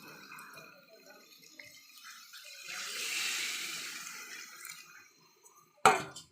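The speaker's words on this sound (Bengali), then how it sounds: "এবার একটু হালকা করে জল দিয়ে দেবো।" Water poured into jackfruit curry cooking in a pan: a soft, close hiss of liquid that swells and fades over a few seconds, then a sharp clunk at the end.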